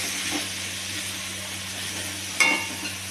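Potato and pumpkin curry frying in a pan under a continuous hissing sizzle, with one sharper scrape of stirring partway through.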